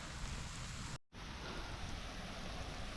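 A garden watering system runs hard, a dense, steady hiss of strongly flowing water that fills the whole stretch, with one brief near-silent dropout near the start before the rush resumes, faint overall with no talking.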